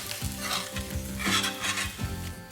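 A spoon scrapes and stirs vegetables and potatoes sizzling in a pan, several rhythmic strokes over a steady hot frying hiss, close up.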